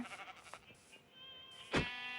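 A sheep in the Minecraft video game gives one loud, short bleat near the end, after a stretch of faint, scattered game sounds, with no talking.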